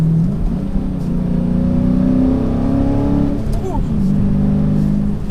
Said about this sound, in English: I love the sound of American muscle cars, just that raw V8 power. It sounds really good.